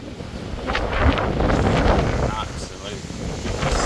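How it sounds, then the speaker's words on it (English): Strong wind at a fishing lake, catfishing in spring at Oakwood Predator Lakes in Norfolk, UK, roaring and buffeting close to the microphone while people talk over it. "Yeah, it's so windy."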